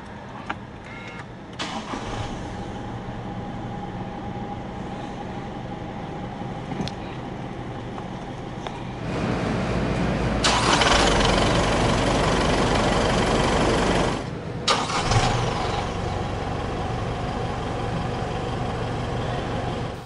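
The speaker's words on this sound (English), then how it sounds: "hit this engine start stop button to fire up the engine" A 2022 Mazda BT-50 3.0 4x4 with automatic transmission is started with a push button: quiet cabin sounds first, then the diesel cranks and catches with a surge, settles into idle, and hums steadily.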